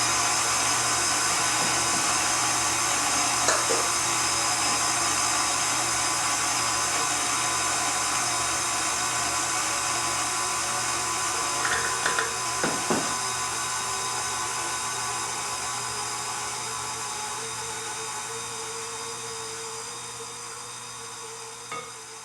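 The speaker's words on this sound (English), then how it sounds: "Turn your mixer on." An electric hand mixer runs steadily while beating chocolate eggnog cake batter, making a continuous whirring hum with a few brief clatters against the bowl and no talking.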